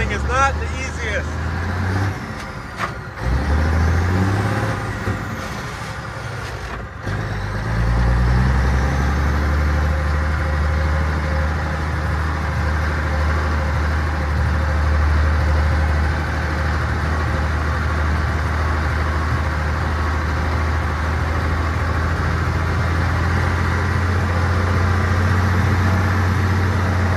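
A Mack B61 truck's heavy engine idles and then pulls away driving, a deep loud rumble with clunks and rattles early on, growing fuller and steady as it rolls, with a voice talking over it at times.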